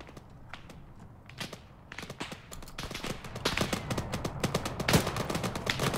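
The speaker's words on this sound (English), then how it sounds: "We're taking fire." Gunfire in ARMA 3 cracks out in scattered shots that build into rapid bursts of automatic fire, growing louder and denser toward the end, with distant and nearer reports mixed together.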